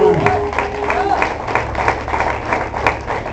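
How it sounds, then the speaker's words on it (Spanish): A church congregation claps in short bursts while a preacher's voice talks over the applause. "Denle un aplauso al Señor, hermano"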